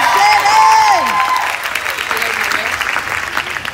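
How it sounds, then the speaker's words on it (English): Audience applause at the Bash in Nash 2019 gathering: dense, steady clapping from a crowd filling the whole clip, with some whoops and cheers rising over it near the start. "give him a big round of applause"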